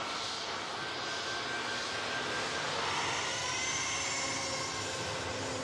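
A Ryanair passenger jet arriving from Katowice at Manchester Airport, a steady distant engine roar with a faint high whine running throughout, no talk.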